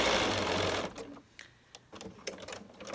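A Bernina sewing machine with all-metal interior stitching a small zigzag, a fast loud mechanical whir at first, then short bursts of needle clatter with brief pauses, close up and without talk.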